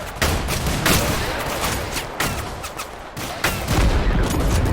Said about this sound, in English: Got him with a sniper